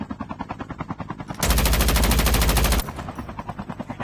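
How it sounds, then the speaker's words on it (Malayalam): Rapid automatic gunfire aimed at a vehicle in a video game, a loud dense burst lasting over a second between steady rhythmic mechanical pulses. "വെടിവെക്കല്ലട വണ്ടിയില്,"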